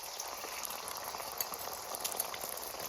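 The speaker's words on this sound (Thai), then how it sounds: "ใส่น้ำมันนะคะแล้วก็คั่วไข่ไว้ก่อนค่ะ" Eggs are stir-fried in oil in a pan, a faint, continuous crackling sizzle with light scattered ticks of a utensil throughout.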